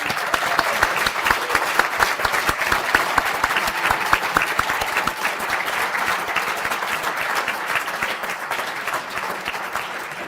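The audience at a university conferring ceremony applauds graduates with dense, sustained clapping from a large crowd that stays at an even level for ten seconds.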